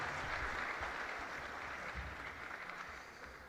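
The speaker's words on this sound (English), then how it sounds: "give her a round of applause." Quiet, brief round of applause from attendees at a staff retreat and awards ceremony, soft scattered clapping from a room of people that tapers off gently.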